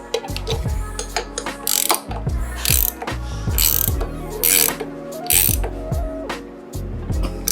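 A hand ratchet wrench clicks in fast bursts while bolts are tightened on a Megalodon 225 race minibike build, with crisp repeated pawl clatter close up and brief pauses between strokes.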